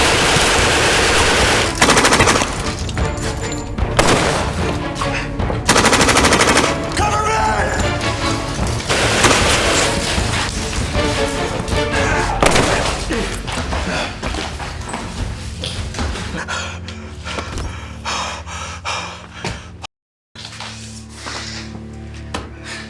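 A thriller movie firefight: bursts of rapid machine-gun fire and single gunshots crack close and loud over a scored backdrop, then a brief silence before quieter sound resumes, with speech mixed in.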